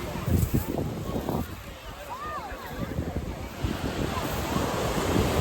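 Sea waves wash onto a sandy beach at Alanya in late October, a steady broad rush with rising surges, mixed with gusty wind buffeting the microphone and people talking faintly nearby.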